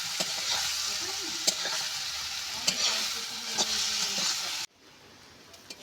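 Mushrooms fry in a pan with a continuous close sizzle and repeated scraping stirs, then the sizzle abruptly drops to a faint hiss near the end.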